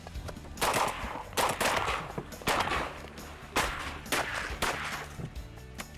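Shotgun blasts ring out during a Louisiana teal hunt as ducks come in over the decoys, a rapid volley of six or seven loud, sharp reports spaced under a second apart, with no voices between them.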